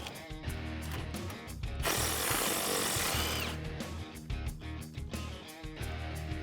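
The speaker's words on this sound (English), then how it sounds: "So I'm using a 10mm socket. I'm just going to take out that bolt." A 10mm socket on a ratchet works a bolt out of a front suspension bracket on a 4WD Toyota Tacoma, giving close, busy metallic clicking and clatter with a brief louder grinding burst in the middle.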